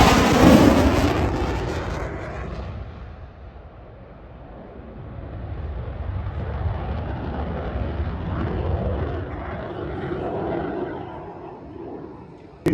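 An F-35 fighter jet at the Avalon Airshow pitching into the circuit, its broad engine roar loud at first, then easing and swelling again as a sustained rumble.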